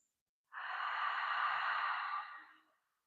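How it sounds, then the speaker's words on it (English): A single slow, soft breath drawn through the nose during a yoga session, a smooth airy rush lasting about two seconds that fades out gently, close and quiet against silence. "Your inhale feels cool through your nose. Your exhale is nice and warm."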